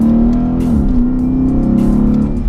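Modified Lexus ISF with a 5-litre V8 accelerating hard in poor grip, a loud close engine roar whose revs rise, stumble and flatten as traction control cuts in, with brief crackles.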